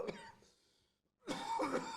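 A man coughs into a podcast microphone: a short cough, a brief silence, then a longer rough hacking cough, fairly close and moderately loud.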